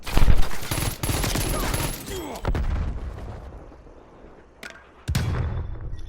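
Diamatti pistol gunfire in Call of Duty: Cold War, loud sharp shots in bursts near the start, around 2.5 seconds and again near 5 seconds, with game ambience filling the gaps.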